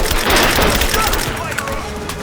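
Dense, continuous automatic gunfire and booming shots during a firefight in the video game Rise of the Tomb Raider, loud and sustained throughout with a crackling, rattling texture.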